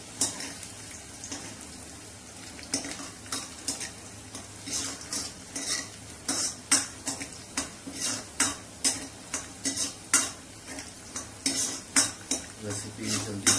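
Garlic, ginger and chili sizzle in a pan for a village-style mustard greens dish, with steady frying hiss under repeated scraping and clinking as a utensil stirs against the metal, growing more rhythmic toward the end.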